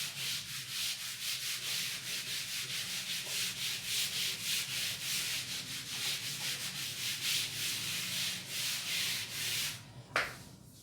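An eraser rubbing a classroom board in quick rhythmic back-and-forth strokes, close and steady, ending in a brief knock near the end.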